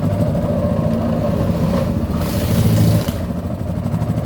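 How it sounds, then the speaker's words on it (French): Boat engine chugging on a floating market canal in Vietnam, a steady throbbing drone that swells briefly, close and continuous with no talk. "Là, on a même l'impression que le moteur, il va tourner en rade"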